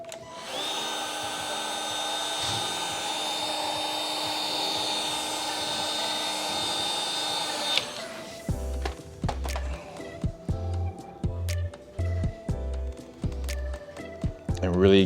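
A heat gun blows with a steady, droning whir while warming the adhesive of a VW emblem overlay on a Golf. It shuts off partway through, followed by a run of soft thumps and handling sounds.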